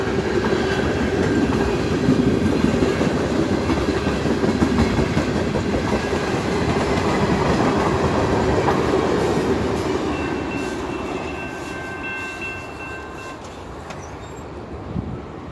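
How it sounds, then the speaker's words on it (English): A long freight train rolls past at a rail crossing in Niagara Falls, Ontario, a steady loud rumble with clattering wheels and faint squeals that slowly fades as the last cars go by. "That was like the longest train I've ever seen"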